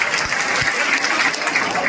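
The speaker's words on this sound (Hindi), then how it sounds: "आप अपने लिए एक बार जोरदार ताली बजाएं" Steady applause from an audience at a college hall inauguration ceremony, a dense continuous patter of clapping with a few sharper individual claps near the start.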